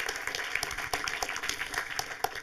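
Steady applause from an audience at a film talk, a continuous patter of many hands clapping at moderate loudness.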